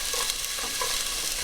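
Onions hiss and sizzle in a pan of hot olive oil while being stirred, a bright, steady frying crackle up close with no voices.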